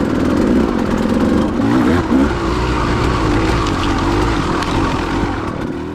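A KTM XC-W two-stroke dirt bike revs on a rocky trail, its engine note rising and falling in wavering bursts, close to the rider and loud throughout.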